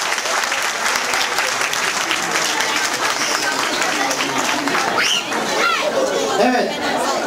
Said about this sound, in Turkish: bu arkadaşlara bu jestlerinden dolayı bir alkış istiyorum